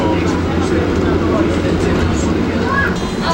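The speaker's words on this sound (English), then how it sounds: "Now we're on the tram in Helsinki." Steady low rumble of a tram interior in motion in Helsinki, with faint rattles and clicks throughout and no clear talk.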